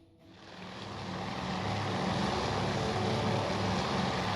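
Combat Air Patrol planes launching from USS Yorktown in Task Force Admiral swell in as a broad, steady propeller drone, rising over the first second and holding loud and continuous with no voices.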